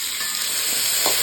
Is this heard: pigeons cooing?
no